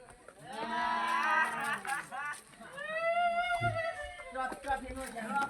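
Buffalo or cattle at a rural Thai-Lao animal blessing ceremony, lowing in loud drawn-out moos, two long calls close by, with people talking underneath.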